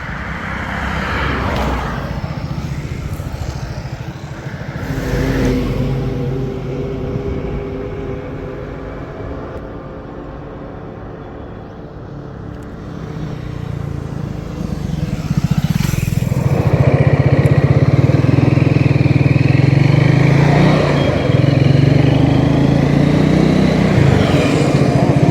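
A Triumph Speed T4 motorcycle runs steadily while being ridden, its engine droning loudly, dipping midway and then rising as the revs climb and hold for the rest of the ride.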